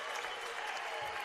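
A basketball crowd in the gym at Gippsland applauds and cheers a three-pointer that ties the game, a brief, dense burst of clapping and crowd noise heard from within the stands.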